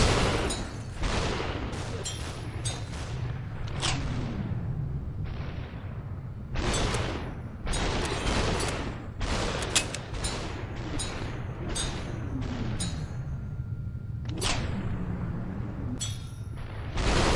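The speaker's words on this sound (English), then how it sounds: "To be taking that many gunshots, I'm just ding ding ding, just blocking bullets with a frying pan" Virtual gunfire from Superhot VR crackles in rapid, irregular bursts, with sharp bright impacts of bullets striking a frying pan used as a shield, loud and clustered over a low steady hum.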